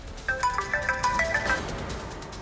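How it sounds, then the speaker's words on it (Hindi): A phone ringtone chiming a quick melodic run of bright, clean electronic tones, repeated in a short phrase, then fading into quiet room tone, with no one talking over it. "ठीक है, आप फोन उठा लीजिए।"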